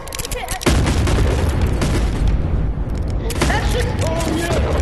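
Heavy artillery blasts in the video game Animal Company, a quiet start cut by a sudden loud boom followed by dense, rolling explosive rumble, with a voice shouting over it.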